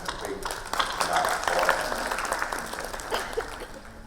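A conference audience breaks into sustained applause, a thick wash of many hands clapping in a large hall, with a voice on the PA speaking over it.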